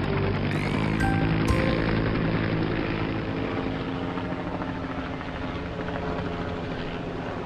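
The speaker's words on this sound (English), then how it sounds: "Now our cargo helicopter can fly." A cartoon cargo helicopter's steady rotor and engine roar drones continuously, loud and close, with a few brief high electronic tones near the start.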